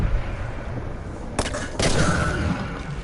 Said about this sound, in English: New Loot Lake Cube Explosion.